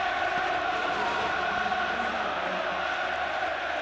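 Football crowd at West Ham in 1994/95, a dense roaring chant from a large stadium audience that continues steadily without a break.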